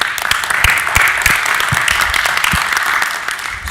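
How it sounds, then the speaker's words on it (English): Audience at a meeting or presentation gives a steady round of applause, dense clapping held at an even level throughout with no talk over it. "Round of applause,"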